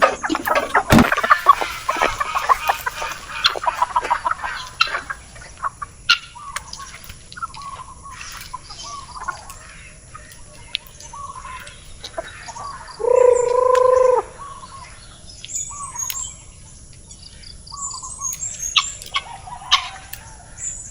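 Chickens and ducks on a small farm at feeding time give scattered clucks, squawks and calls, busiest at the start, with sparse noises and one sustained louder squeal midway over quiet surroundings.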